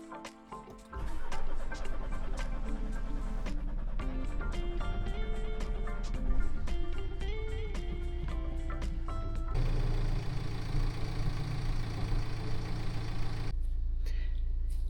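Diesel engine of a BMW X1 F48 with the B47 engine, after a fuel fault in the wiring harness, cranking with a rapid clatter and then catching into a steady mid-pitched running hum, close and loud with no talking.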